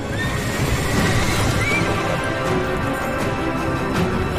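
A horse neighs and whinnies within a loud, dense wash of noise that may include hoof clatter, with the calls largely buried in the din.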